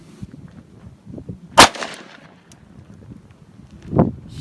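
A single sharp, loud gunshot from a .357 Magnum revolver cracks out at an outdoor range, followed by a second duller pop a few seconds later, with faint wind noise.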